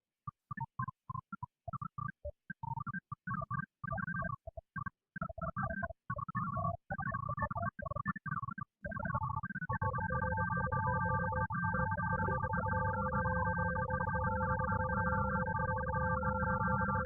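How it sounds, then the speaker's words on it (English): Sonification of hydrogen bonds forming within a folding protein: choppy bursts of electronic tones stutter on and off at first, then settle into a continuous layered chord of sustained pitched tones, no speech. "listen to the direct H-bonds forming between different parts of the protein with itself"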